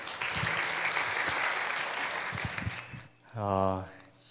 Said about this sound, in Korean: 나오실 때 큰 박수로 격려해 주시기 바랍니다.